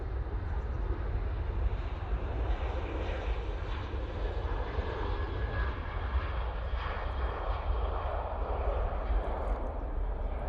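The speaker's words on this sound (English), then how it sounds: "KLM 737-800 now on the roll off to Amsterdam Schiphol" KLM Boeing 737-800 jet taking off, a continuous heavy engine roar with deep low rumble holding steady throughout, loud and unbroken, with no talk.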